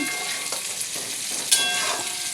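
Fish curry broth bubbling and sizzling in a pan, a steady crackling simmer with a few sharper pops and spits rising above the bubbling.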